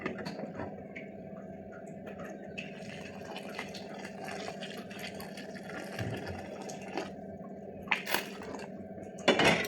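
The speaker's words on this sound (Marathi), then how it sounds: "त्यामध्ये मी आता गरम पाणी घालणार आहे." Hot water is poured into a pan of sautéed moth beans for misal, a wet, bubbling pour with drips and splashes that grows busier toward the end.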